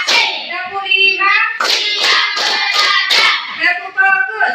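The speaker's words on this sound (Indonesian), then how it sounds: "Sekarang kita ini tepuk 1, tepuk 2, tepuk 3, tepuk 4, tepuk 5" Children in a classroom clap in a counted routine of one to five claps, sharp hand claps alternating with the children chanting the counts aloud in unison, fairly close and lively.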